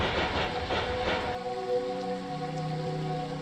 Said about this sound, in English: Dang, this train looks beat up.